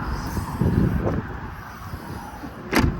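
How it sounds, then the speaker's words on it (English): A 2013 VW California van's heavy soft-close tailgate is drawn shut with a motorized hum, ending in a soft thud and a short latch click near the end. Faint background noise continues throughout. "Soft close tailgate"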